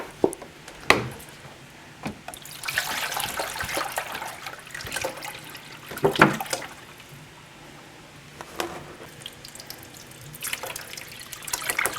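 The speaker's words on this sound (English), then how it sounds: "And now we're going to fill it with distilled water." Distilled water is poured into an indoor hydroponic herb garden, a steady close trickle and splash with a few louder sloshes and clunks, fading between pours and resuming toward the end.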